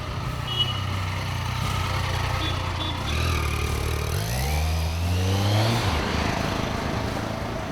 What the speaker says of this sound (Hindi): देखिए कैसे अपनी 1200 सीसी की बाइक पर सवार हो फुर्र हो